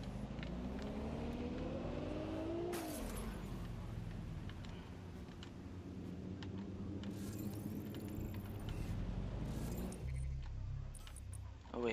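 A car driven in the video game Watch Dogs Legion gives a continuous engine drone whose pitch climbs and falls through gear changes, with a sharp shift near the start and another near the end.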